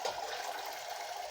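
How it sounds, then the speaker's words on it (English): Sparge water rains down onto a grain bed during beer brewing, a brief steady splashing patter with no voices. "I'm raining that down on top of the grain bed"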